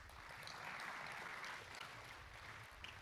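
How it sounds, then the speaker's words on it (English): Applause from a conference audience greets a panel speaker at a business congress, a soft, distant, steady rain of clapping that carries on evenly from start to finish. "Let us give a warm round of applause for Timothy Schwartz"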